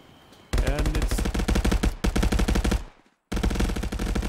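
Rapid automatic gunfire in the VR shooter Contractors VR during a competitive match, loud dense bursts of shots rattling almost continuously, broken by a brief silence before firing resumes.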